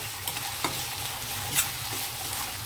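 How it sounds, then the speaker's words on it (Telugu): Tomatoes frying in oil and stirred for an Andhra-style dried shrimp curry, a soft continuous sizzle with a few light scrapes of a spoon, quiet and close, no talking. "టమాటో కూడా కొంచెం ఇలాగ ఆయిల్లో మగ్గితే టేస్ట్ బాగుంటుందండి కర్రీ"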